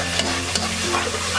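Ground cumin, coriander, nutmeg and mace frying in a pan for chicken roast, a continuous sizzle with spoon scrapes as the spices are stirred, close and fairly loud.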